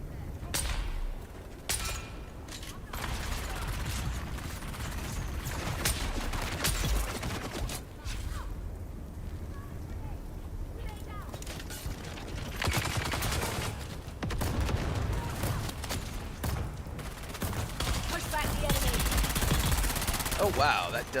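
Gunfire in the survival game Dune: Awakening, a sustained run of rapid shots and bursts layered over game ambience and music, loud and continuous throughout, with a voice talking now and then.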